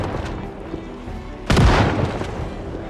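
A single loud shotgun blast in Project Zomboid cuts through a quiet ambient backdrop midway, followed by a short decaying rumble.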